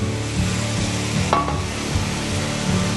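Browned meat tipped back into a slightly small pan for shepherd's pie, crackling and sizzling steadily with scraping stirs and a brief knock from a utensil.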